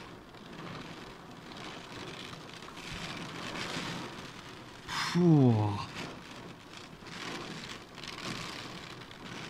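Torrential rain from a squall line hisses as a steady wash of heavy downpour drumming on surfaces, with a brief louder whoosh swelling in the middle and a person exhaling once.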